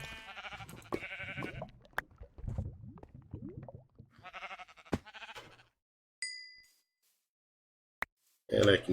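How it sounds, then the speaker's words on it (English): Sheep bleat repeatedly in a Minecraft-style video game, short mid-pitched calls recurring alongside someone talking over the top, with brief pauses and a few sharp game clicks. "I really get tired of hearing sheep."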